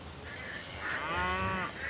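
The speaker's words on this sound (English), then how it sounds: "You heard a duck, did you, Matthew?" A duck quacks and honks at moderate distance in an English village setting, a couple of harsh nasal calls over a soft outdoor background, no talking.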